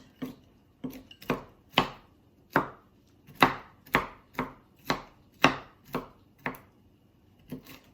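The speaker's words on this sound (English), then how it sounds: "It's really good for chopping nuts or herbs." A knife chops nuts on a board in a steady series of sharp, close taps, about a dozen cuts with brief pauses between them, no voices.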